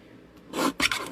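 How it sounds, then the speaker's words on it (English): A small paper trimmer slices through cardstock in two quick rasping strokes, the second sharper than the first, heard close up against a quiet background. "And then I'll bring in my handy dandy little trimmer, and I'm just gonna trim"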